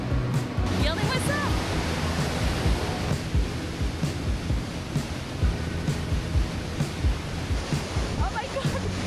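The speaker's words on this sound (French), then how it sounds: "Je vais aller me mettre sous la cascade." A waterfall cascade in Quebec roars nearby as a steady, dense rush of falling water. A voice can be heard over it at times.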